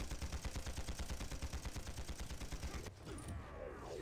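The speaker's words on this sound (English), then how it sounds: "Now we have the two gunners fighting it out against each other." Two gunners trading rapid automatic fire in the game Panzar, a steady, fast-rhythm stream of shots for about three seconds before stopping, leaving a fainter ambient rumble.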